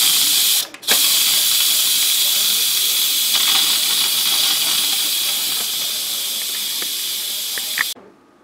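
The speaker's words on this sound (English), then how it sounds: "so we're going to release the pressure manually" An Instant Pot 3-quart pressure cooker vents steam during a manual pressure release, a loud, steady hiss that runs nearly eight seconds after a brief dip near the start, then cuts off abruptly.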